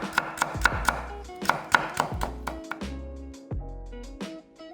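A knife slices a carrot into thin julienne strips on a cutting board, with crisp, evenly spaced chops coming in quick, close bursts and short pauses between them.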